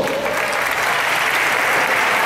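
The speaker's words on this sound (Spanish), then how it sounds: "Les aplauso para Gogo" Conference audience applauds a special guest named Gogo, a brief burst of close, dense clapping from many hands filling the hall without a break.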